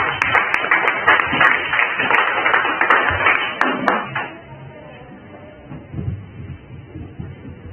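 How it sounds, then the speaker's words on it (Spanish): A crowd at a Yarowillka cultural event applauds with brisk, uneven clapping for about four seconds before it fades into quiet room noise and faint murmuring. "Un aplauso, por favor."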